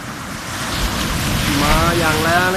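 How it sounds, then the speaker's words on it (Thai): Strong sea waves surge and wash up onto a beach at Bang Saphan in the morning, a loud continuous roar of rushing water with wind buffeting close to the microphone. "เช้านี้มานั่งให้น้ำทะเล คลื่นนะครับซับขึ้นมานะครับมาแรงเลยครับมาแล้ว"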